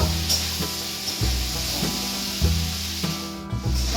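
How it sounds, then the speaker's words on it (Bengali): Bitter gourd pieces frying with turmeric in a pan, stirred with repeated scraping strokes every half second or so over a low steady sizzle, close and fairly loud, no talking. "উচ্ছেগুলোকে এরকম করে নাড়িয়ে নাড়িয়ে ভাজতে হবে"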